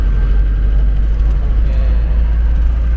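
Diesel trucks labor up a sloping city road in Jammu, producing a heavy, steady low engine rumble mixed with nearby traffic noise.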